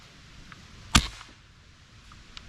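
Trigger pull on a cheap 10-pump Walmart pellet gun, one sharp, close crack with a short rattling tail against quiet outdoor background, followed by faint small clicks.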